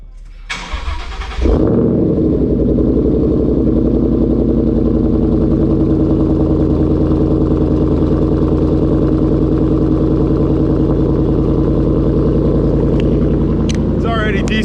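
A 2014 Mustang GT with stock exhaust cranks and fires up indoors, then settles into a loud, steady, rumbling idle that echoes off the building walls.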